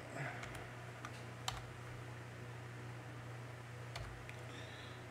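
Typing on a computer keyboard during a Linux configuration session, with sparse, soft key clicks over a steady low hum and fan-like background noise.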